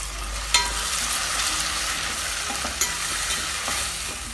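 Onions and tomato sauté in hot oil for a Kerala-style vanjaram fish curry, a continuous close sizzle and fry with a few sharp stirring knocks against the pan.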